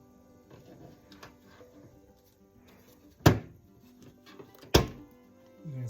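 An LG washing machine panel is pried loose from its friction pins with a flat screwdriver, giving two sharp plastic cracks and thunks a second and a half apart over quieter handling noise.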